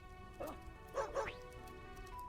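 Small Akuma dog in The Last Friend video game giving a few short yips and barks, three quick bursts close up, with a quiet game backdrop and faint talk nearby.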